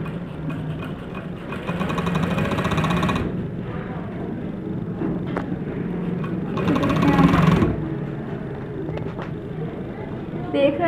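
A sewing machine stitching kurti fabric with its lining, whirring in two steady runs under a person talking nearby.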